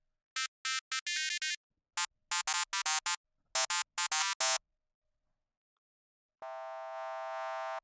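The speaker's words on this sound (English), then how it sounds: "That just sounds like a shitty saw wave." A synthesized half-sine chiptune tone sounds as a run of short, bright, buzzy blips in an irregular rhythm, then after a pause a single sustained note holds steady to the end, loud and alone.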